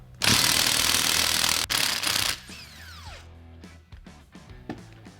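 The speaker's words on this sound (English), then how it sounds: "Take our impact wrench." An impact wrench hammers a press-fit rocker stud out of a Vortec small block cylinder head, a loud continuous rattling burst for about two seconds, then a brief second burst followed by quieter clanks and tool handling.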